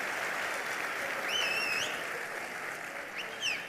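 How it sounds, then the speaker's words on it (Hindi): Audience applause at a mobile security software presentation, a fairly faint, steady patter of clapping with brief high whistles or squeaks mixed in. "ताली बजाना है तो प्रॉपरली सब लोग ताली बजाओ"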